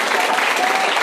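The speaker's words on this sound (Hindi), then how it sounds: "इसलिए जोरदार तालियां आपने लिए" Loud, dense applause from schoolchildren and teachers at a school ceremony, a brief continuous burst of clapping close by.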